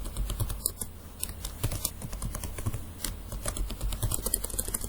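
Someone types a new password on a computer keyboard, producing rapid, close, crisp key clicks in an uneven rhythm with no voices.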